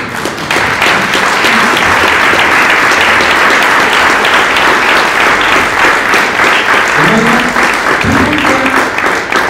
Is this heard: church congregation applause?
yes